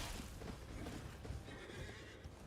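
A horse in a video game whinnies loudly, with faint hoof clip-clop and game sounds mixed in, over a short stretch.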